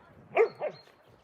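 A dog tearing apart her dog bed gives two short, close barks about a quarter second apart, with near-silence before and after.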